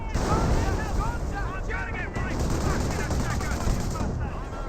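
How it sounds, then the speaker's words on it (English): Artillery barrage in the Company of Heroes 1 strategy game, 25-pounder or Hummel guns: a loud, dense stream of overlapping shell blasts and gunfire, with battlefield voices underneath. "25 pounder or Hummel barrage in this region."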